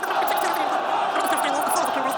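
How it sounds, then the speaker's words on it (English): A dense, steady roar from a large street crowd in Syria celebrating the fall of the Assad regime as Friday prayers end, with voices blending into continuous shouting and cheering that stays loud and unbroken throughout. "the roar was deafening"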